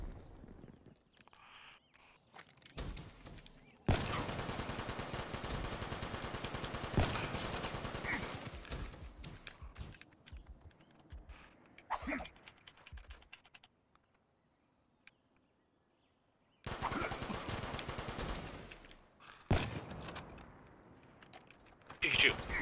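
Rapid bursts of video game gunfire from an older first-person shooter, loud and sustained in long stretches with pauses between, while players talk over it.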